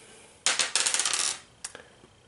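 Dice rattle and clatter across a table during a Shadows of Brimstone board game: a loud burst of rolling clicks that settles after about a second, followed by a few faint, separate knocks.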